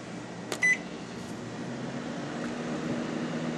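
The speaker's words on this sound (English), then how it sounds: "I'm going to turn the microwave on." A microwave oven is switched on, with a short beep followed by a low, steady running hum. The sound is quiet and continuous with no voices.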